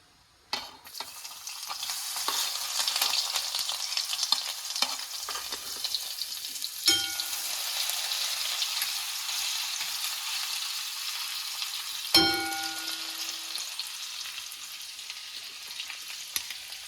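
Mustard seeds and ginger-garlic paste frying in a pan for a village-style wild mushroom curry: a steady hiss of hot oil that starts abruptly and continues throughout, with a couple of sharp clinks of a utensil against the pan.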